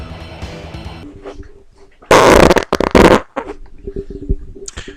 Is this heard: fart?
yes